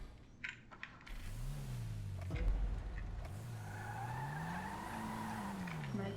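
A car driven in GTA revs up and down in long swells, its engine pitch rising and falling, with tyre scuffs and small clicks at the start.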